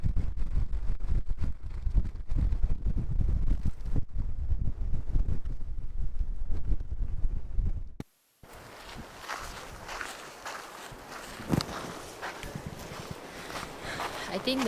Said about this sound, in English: The wind is freaking big.